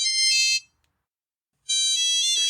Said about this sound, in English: The feedback phone is breaking up the awkward silence